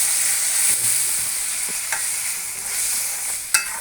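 Liquid for a sour small-fish curry made with old dried mango hitting a hot pan, a loud continuous hiss and sizzle up close with a few faint clinks and one sharp utensil tap near the end.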